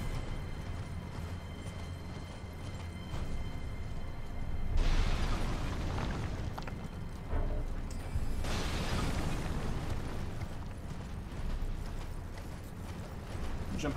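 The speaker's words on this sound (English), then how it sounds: "Dropping explosions, all sorts of stuff." Explosions in the Elden Ring video game come as heavy booming bursts and rumbling crashes over a dense, loud backdrop of game noise, with two big surges partway through and no clear talking.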